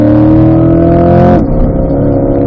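A race car engine drives hard around a track at Spring Mountain, a loud steady roar with strong harmonic tones, then dropping in pitch as the driver lifts off and lets it coast into the corner.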